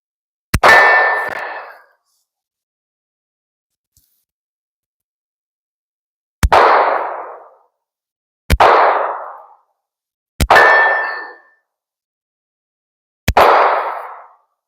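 Five separate pistol shots from a Smith & Wesson double action, single action pistol, each followed by a bright metallic clang of steel targets ringing out and fading, spaced a few seconds apart with a long gap after the first.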